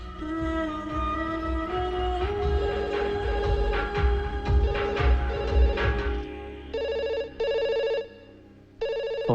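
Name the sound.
telephone ringing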